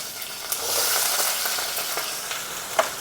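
Green chillies, onions and curry leaves fry in a pan with mustard seeds, giving a close, continuous hissing sizzle with a few sharp pops and stirring clicks.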